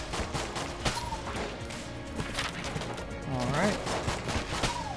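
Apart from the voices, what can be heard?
pistol shots in the video game Enter the Gungeon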